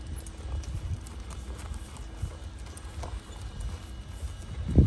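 A ridden horse's hooves clip-clop steadily on the ground, close and continuous over a low rumbling background, with no talk.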